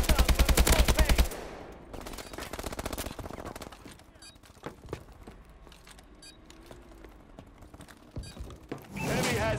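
Gunfire in the video game Call of Duty: Advanced Warfare, multiplayer domination match: a loud rapid burst of automatic fire opens, then quieter scattered shots and mechanical clicks, before another dense volley of fire returns at the end.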